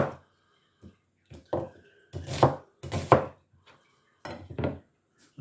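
Taro leaves being roughly chopped on a board, a series of separate, close, crisp knife thuds with short pauses between them, no talking.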